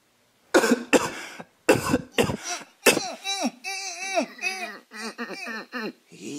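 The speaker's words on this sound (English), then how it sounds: "He just coughed" A child coughs a few times in short bursts, then makes whiny, voiced sounds close to the microphone.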